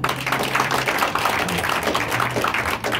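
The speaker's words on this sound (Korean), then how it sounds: "다시 한번 큰 박수 한번 부탁드립니다" Audience applause at the Suho Rotary Club 10th anniversary ceremony, a dense and steady wash of many hands clapping that holds through the whole stretch over a low background hum.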